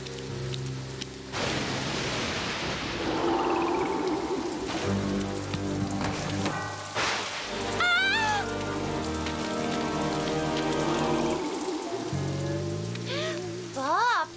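Steady rain pouring down in a cartoon scene, a constant hiss of falling water under bursts of music and other effects.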